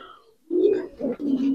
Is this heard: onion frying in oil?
no